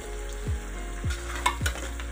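Frying sizzles steadily while white pulao and chicken are cooked, a constant hiss near and fairly quiet, punctuated by three low knocks and a light clink from utensils against the pot.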